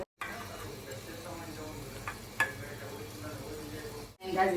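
A spoon stirs food in a sizzling pan, a continuous frying hiss with scraping strokes and occasional sharp clinks, briefly cut off at the start and near the end.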